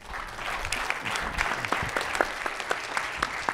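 A lecture-hall audience breaks into warm applause as a speaker is welcomed: dense, steady clapping from many hands fills the room evenly, with a few sharper individual claps standing out near the front.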